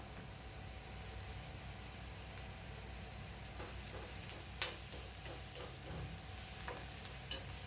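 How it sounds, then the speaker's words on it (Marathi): Taro leaf bundles with kokum are sautéed in oil, a soft, steady frying sizzle with occasional light clicks and taps of stirring, fairly quiet and with no voices. "सगळं एकत्र परतून घ्यायचं ना. चांगला थोडंसं लाल होईपर्यंत परतलं तर चांगलं असतं."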